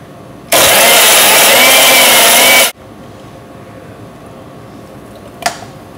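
A blender whirs loud and steady for about two seconds, crushing a greenberry Shakeology shake with a cup of ice and a tablespoon of all-natural peanut butter, then cuts off into quiet with one faint click near the end.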